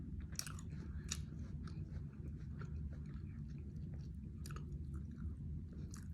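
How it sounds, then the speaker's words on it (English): A big juicy apple is bitten into and chewed close up, with a steady run of crisp, wet crunches over a low background hum. "first you're gonna just take a nice bite of this big juicy apple"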